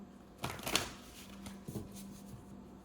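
Tarot cards riffle in a quick shuffle, a short papery flutter followed by soft taps and slides, close and fairly quiet.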